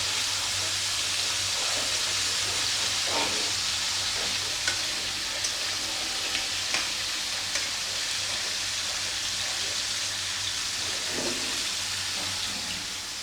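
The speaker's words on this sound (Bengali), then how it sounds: "মাছগুলো ভালো করে ভেজে নিচ্ছে, না ভাজা হলে তো আবার বাচ্চারা খেতে চায় না, একদম শুকনা করে ভেজে নিতে হবে" Rohu fish pieces frying in a pan, a steady loud sizzle with a few faint stirring scrapes, continuous and close with no talking.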